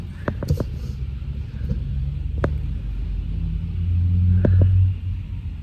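A car cruises along a road on a long road trip, giving a steady low rumble inside the cabin that swells briefly near the end. A few light clicks and knocks come through over it.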